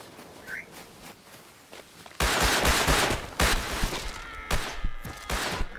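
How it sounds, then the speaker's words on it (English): A sudden eruption of rapid shooting in a video game firefight, loud sharp bursts after a quieter opening with faint footsteps, continuing in repeated volleys. "Yeah, I think we're shooting at them."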